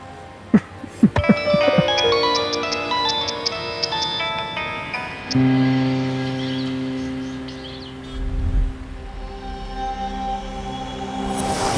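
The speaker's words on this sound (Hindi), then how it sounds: "तुम्हारी मॉम का फोन है यार, देख तो देख ना" A mobile phone rings for an incoming call, playing a bright melodic ringtone of repeated tonal notes. A lower sustained tone and a short thump come in partway through, with no talk.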